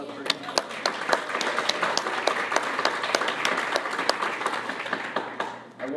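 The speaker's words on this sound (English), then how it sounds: "Round of applause for you." A small group claps enthusiastically, with sharp, rapid, uneven claps continuing for several seconds.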